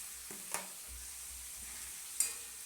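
Cauliflower sizzles softly in a hot pan with fried tomato and onion, with a couple of faint clinks as it is stirred.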